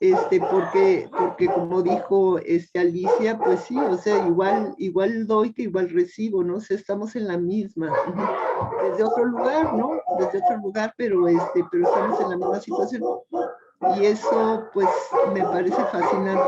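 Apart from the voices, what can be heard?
dogs barking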